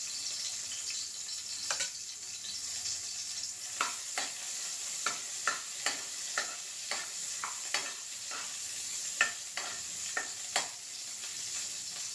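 Potatoes and green chilli fry in a little oil in a home kitchen, with a constant bright sizzle broken by a regular series of sharp spatula scrapes and clacks as they are stirred.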